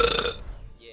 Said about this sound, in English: that's a big burp for a little boy